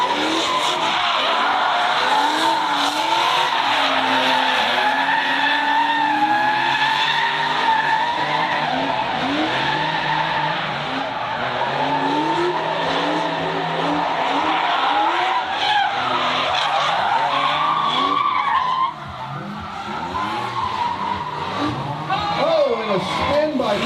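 A drift car at a plains drifting event spins out, its tires skidding and squealing in long wavering screeches over engine noise, with a commentator talking over the action and the screech shifting near the end.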